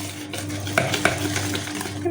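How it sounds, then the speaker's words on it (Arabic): Cake batter being mixed in a bowl, a steady soft stirring with a couple of sharper clinks of the utensil against the side, close up and without talk. "خلطوا مزيان"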